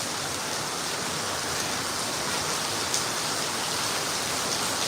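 Heavy rain pours at full strength in a dense, steady hiss, constant and loud with no pauses.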